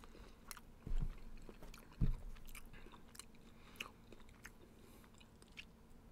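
Someone chews Wendy's chili cheese fries close to the mic, with soft wet chewing and a couple of louder bites near the start, fading to quieter mouth sounds with no talk.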